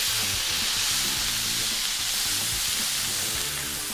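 A smashburger patty with thinly sliced onions sizzles loudly and continuously on a hot griddle, a dense close hiss with low rumbling underneath.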